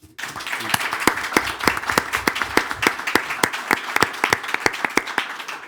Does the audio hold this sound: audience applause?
yes